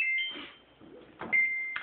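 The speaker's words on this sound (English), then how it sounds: "it will beep like this long chime to let you know that" A Samsung WF448AAP front-load washer sounds its mix load bell, a long electronic chime of two sustained tones with a short gap between them, heard close and clear over faint background noise.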